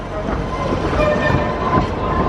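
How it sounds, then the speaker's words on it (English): The Big Dipper roller coaster train at Blackpool Pleasure Beach rumbles and clatters steadily along its track close by, a loud continuous rolling roar with faint crowd noise beneath. "Getting nice and close to the Big Dipper here, but unfortunately we've not timed it, so there's a train going round."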